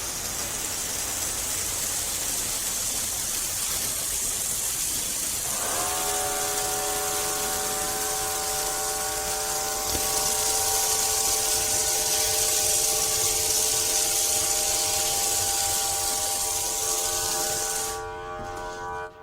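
An electric foam sprayer runs with a steady close hiss, then a motor whine with layered tones starts partway through and holds evenly before cutting off abruptly near the end.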